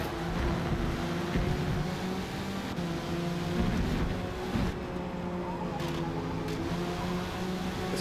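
Ford Mustang race car engine in a racing video game at Sunset Peninsula Raceway, a steady loud drone with shifting pitch and some tire squeal as the car works through corners.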